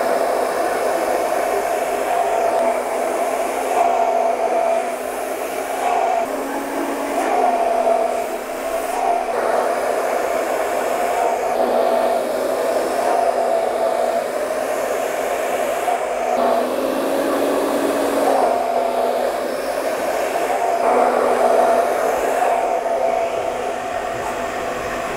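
A hair dryer blows steadily on long hair during a barbershop haircut, a loud continuous whooshing roar with slight shifts as the airflow moves, running alone with no talking.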